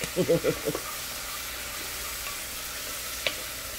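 Food for doubles sizzling in a hot pan on high heat, a steady close frying hiss after a few brief knocks and scrapes at the start.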